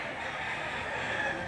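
A Golden Boy rooster crows briefly and faintly amid the ambient murmur of a livestock auction market in Lipa City, Batangas.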